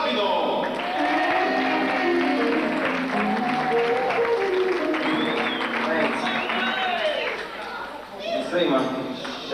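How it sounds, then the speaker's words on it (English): Guests at an engagement party give a round of applause, a dense burst of clapping mixed with crowd chatter and some cheering that carries on steadily for several seconds, with voices talking over it. "round of applause please for Joe Rapido."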